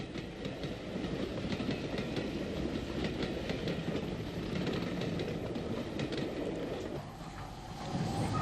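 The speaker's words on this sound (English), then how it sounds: "S-Class number 60 Slieve Donard on the 10:15 service train to Omagh and Belfast" GNR S-Class steam locomotive No. 60 Slieve Donard hauls a service train past in a steady, broadband rumble, with wheel clatter and rolling noise holding at moderate distance throughout, no voices.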